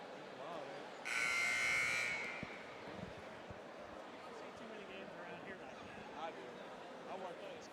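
A timeout buzzer sounds at a high school prep basketball game, one loud flat electronic blast lasting about a second, then fading into a murmuring gym crowd with faint voices and scattered court noise.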